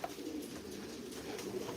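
Backyard pigeons or doves give soft, low cooing calls in a short, continuous murmur, fairly faint against a quiet outdoor background.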